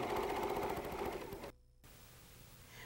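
A sewing machine stitches a rail fence quilt top together, running with a close, rapid mechanical whir before cutting off abruptly, followed by a brief gap and quieter room tone.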